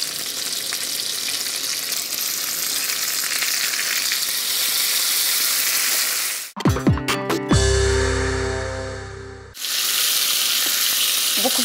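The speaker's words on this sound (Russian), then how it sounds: "Разогреваем масло и выкладываем в хорошо разогретое масло хорошо промаринованную перепелку." Marinated quail fries in well-heated olive oil with a loud, steady sizzle and crackle. A few seconds of a different, tonal sound break in midway before the sizzling resumes. No one speaks.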